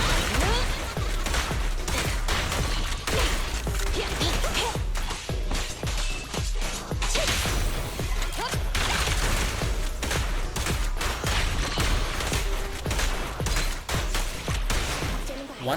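ZhuYuan's shotgun blasts in Zenless Zone Zero combat, a dense run of rapid, loud bursts and impacts layered under busy game effects throughout.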